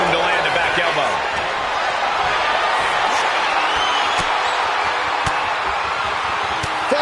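A wrestling arena crowd in WWE 2K25 roars continuously, with scattered thuds of impact, under a commentator's running play-by-play.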